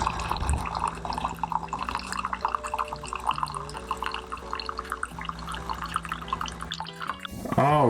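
A Keurig-style single-serve coffee maker brews a 10-ounce cup from an SF Bay compostable coffee pod, with a steady close trickle and drip of liquid over a low machine hum, ending in a short hiss and gurgle.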